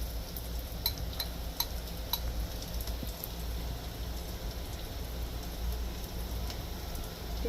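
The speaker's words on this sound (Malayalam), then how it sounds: "ഇനി നമുക്ക് അരി ഇട്ട് കൊടുക്കാം" Rice grains pour into a pot of fried onions for a meat rice dish, giving a soft pattering rush with a few sharp ticks and clicks over a low background hum.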